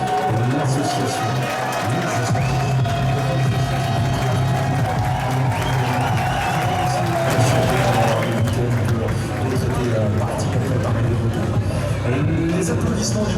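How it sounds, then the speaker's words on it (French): Outdoor crowd at the 24 Hours of Le Mans motorcycle race applauding and cheering the riders just before the start, a broad continuous wash of clapping and crowd hubbub with a low engine-like drone underneath. "Les applaudissements du public à moins de 2 minutes du départ, ça compte"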